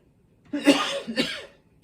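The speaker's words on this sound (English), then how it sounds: "excuse me, I coughed" One close, fairly quiet cough in two bursts, a harsh hack followed by a smaller one, with silence before and after.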